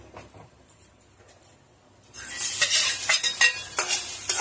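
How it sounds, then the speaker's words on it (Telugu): Onion, carrot, chana dal, green chillies and curry leaves frying in oil for poha upma, starting with quiet clinks before a loud, steady sizzle and scraping stirs take over for the last half. "ఇప్పుడు మనం ఇవన్నీ వేసుకొని బాగా ఫ్రై చేసుకోవాలి"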